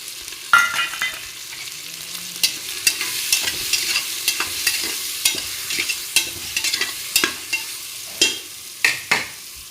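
Spices of red chili powder, turmeric, salt and masala are stirred and fried for khichdi in a pot on a village wood-fired stove, with a soft sizzle under repeated sharp scraping clinks of a spoon, close and rhythmic.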